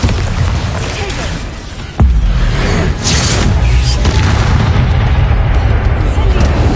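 The Bombarda spell detonates in Hogwarts Legacy with a sudden deep boom partway through, followed by rumbling blasts and crackling battle noise that continue loudly to the end.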